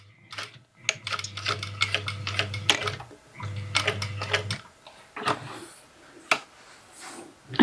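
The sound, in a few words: sewing machine stitching a skirt seam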